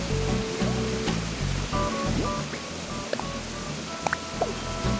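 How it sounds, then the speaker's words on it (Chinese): A large waterfall in the video game Animal Crossing roars as a steady, loud wash of noise, with soft game tones and faint blips layered on top. "大家都说来我这边那个瀑布区很吵，因为瀑布真的还蛮大声的"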